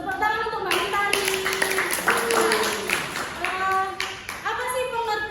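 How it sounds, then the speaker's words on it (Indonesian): Classroom clapping during a religious studies teaching practice lesson, a few bursts of children's hand claps mixed with young voices and a teacher talking over them. "Tepuk tangan untuk Mbak Mentari."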